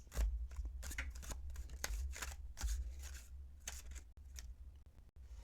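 Tarot cards with a cat theme are riffle-shuffled by gloved hands in a quiet room, a series of quick crisp flutters and snaps in bursts, close and fairly soft.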